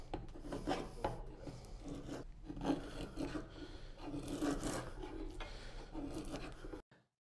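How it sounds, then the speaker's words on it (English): Draw knife shaving and flattening saw-cut faces and corners of a wooden table leg before lathe turning, giving steady, rasping scrapes in repeated close strokes that stop abruptly at the end. "Take a draw knife to start flattening up some of the work from the saw cuts, and then start cutting away the corners of that leg"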